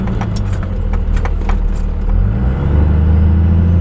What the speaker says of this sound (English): this thing makes my turbo spool up so fast